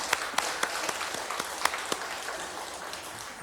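A congregation at a Wednesday church service gives a soft round of applause, scattered individual claps standing out over a faint, thin background of clapping that fades toward the end.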